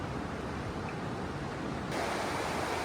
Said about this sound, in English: This is the Upper McDonald Creek and the rapids leading up to the falls.